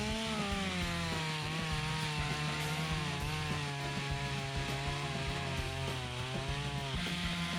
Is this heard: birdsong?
no